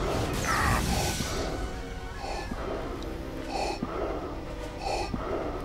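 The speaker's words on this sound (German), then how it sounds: "Er atmet schon ein bisschen schwer." Heavy, labored breathing from a character in Star Wars The Force Unleashed 2, a series of rasping inhales and exhales in a slow uneven rhythm over faint background game sound.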